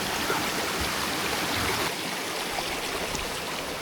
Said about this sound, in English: Well, it's not a river, it's just a brook.